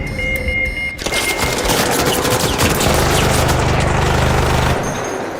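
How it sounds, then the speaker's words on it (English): Rapid bursts of gunfire in a StarCraft 2 game, loud and dense, with a sustained rattling stretch and an electronic tone underneath near the end, and no voices. "Oh, I got shot by a player, so."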